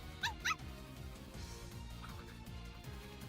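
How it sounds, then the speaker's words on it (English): A dog in the visual novel Fureraba Friend to Lover gives two quick, high whimpering yips near the start, then falls quiet under a steady musical background. "Is the dog chewing on me?"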